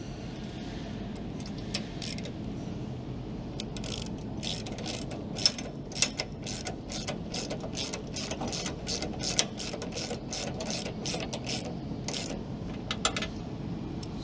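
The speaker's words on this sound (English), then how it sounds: "We're going to tighten that enough so it holds the oval washer in" A hand ratchet tightens a bolt on a bull bar oval washer during a Ford Ranger fitting. Quick, fairly faint clicking strokes repeat in a steady rhythm throughout, alone with no talk.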